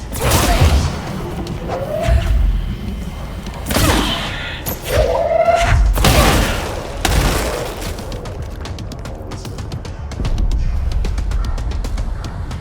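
Enemies exploding in the game Control: several heavy thumping blasts with whooshing tails land a second or two apart, loud and close amid combat noise.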